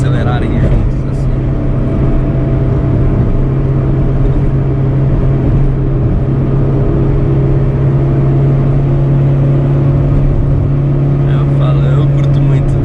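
A 1997 Chevrolet Corsa Wind MPFI cruises along the Fernão Dias highway, its engine drone and steady road roar continuous and loud throughout, with someone talking over the noise.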